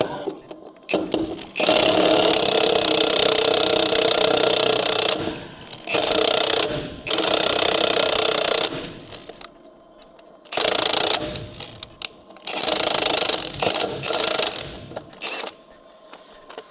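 Lug nuts coming off a dump trailer wheel, including a stripped one, with loud close bursts of rapid ratcheting from a power tool, several runs of a few seconds separated by pauses and brief clicks.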